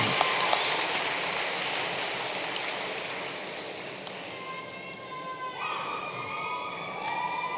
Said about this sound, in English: Please give these individuals a round of applause.